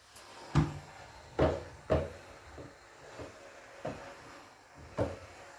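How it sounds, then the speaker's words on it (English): A Henry Hoover vacuum cleaner bangs against a door in a block of flats, giving about half a dozen irregular dull thuds over a faint background, heard from inside. "I've got cleaners banging on my door with the Henry Hoover"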